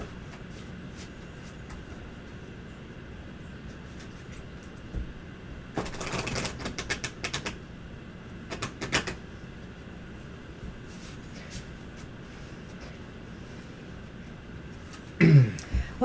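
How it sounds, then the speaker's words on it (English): A tarot card deck is riffled and shuffled in two short bursts of fast crisp flutter, close but fairly quiet, followed by a brief louder fumble against a faint room background. "this deck does shuffle well"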